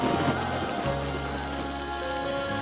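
Steady rain pouring down, a dense continuous hiss with a low rumble beneath, fairly loud and unbroken throughout.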